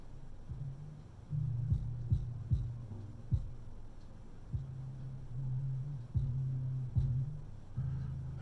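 An IKEA Obegransad turntable plays a record with a muddy, bass-heavy sound: a low, throbbing thump and hum pulse in uneven bursts, with no voices.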